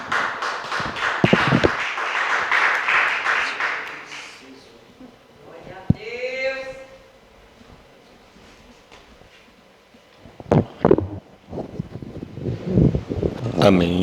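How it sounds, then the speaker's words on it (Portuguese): Church congregation applauding at the close of a service, clapping for the first few seconds under speech and shouts, followed by quieter sounds and further spoken voices later. "E aplaudimos o Senhor mais uma vez"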